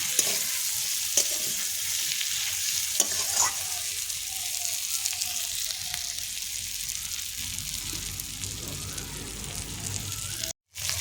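Oil sizzles steadily in a pan as fried mourola fish are gently stirred into spice masala, with occasional soft scrapes and taps.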